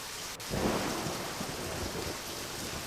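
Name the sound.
rain and thunder in the video game Deadly Premonition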